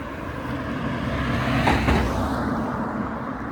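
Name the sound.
cars passing by on a road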